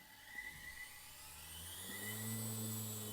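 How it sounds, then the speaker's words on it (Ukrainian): Small brushed DC motor running on a US-52 PRO MAX speed controller with reverse, a steady whirring hum that rises in pitch and grows slightly louder as speed is increased, heard alone. "Ось так працює двигунець."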